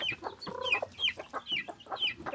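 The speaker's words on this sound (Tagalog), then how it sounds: "Ito ang kalingawan o pakaon ining atong mga binuhi nga manok." Backyard pet chickens being fed rice cluck and chatter close by, with a busy run of short, overlapping clucks and calls and no talking.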